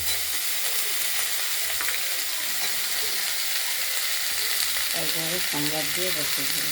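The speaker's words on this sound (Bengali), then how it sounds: "আমরা কড়াইতে ফোড়ন দিয়ে দিয়েছি, আদা থেতো আর তেজপাতা আর দিয়েছি মেথি শুক্তোর জন্য" Crushed ginger, bay leaf and fenugreek seeds temper in hot oil in a kadai, giving a continuous loud sizzle and hiss, with a brief voice audible near the end.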